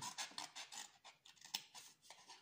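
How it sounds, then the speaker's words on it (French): Pointed scissors snip through paper and card at the centre of a handmade baby album, giving a quick, rhythmic run of soft, faint cutting crunches close up, with no voices. "je prends des ciseaux un petit peu plus pointus pour le centre"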